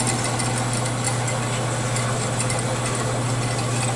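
Vectrax 7x12 band saw with hydraulic down feed running, a steady loud motor hum with a constant low drone and mechanical whir, no cutting or voices.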